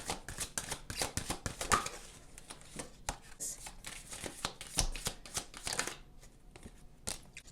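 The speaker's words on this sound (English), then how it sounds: "I am going to shuffle a lot of oracle cards, you guys, and then talk about them all at once" A deck of oracle cards is shuffled by hand in quick bursts of crisp riffling and slapping, close and continuous, with short pauses between runs.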